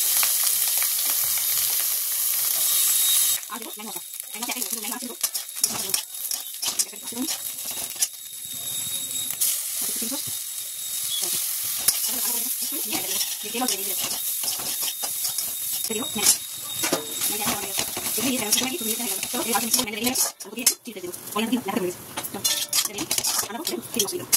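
Capsicum and onion sizzle in a pan alongside a fried egg, a steady loud frying hiss with intermittent stirring and utensil clinks against the pan throughout.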